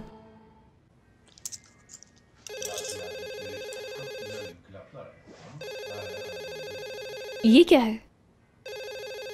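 An old-style telephone bell rings in repeated bursts, with people talking and a brief squeaky noise between the rings.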